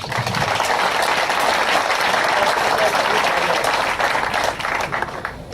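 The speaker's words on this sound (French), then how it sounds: "Je voudrais encore une fois vous demander de les applaudir pour ça." Audience applauding at a youth volunteer communicators event, a steady dense wash of clapping that holds for several seconds and fades slightly at the end.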